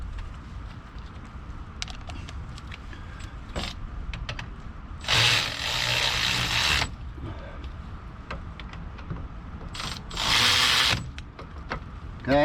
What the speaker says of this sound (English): we'll just run them up with the ratchet a little bit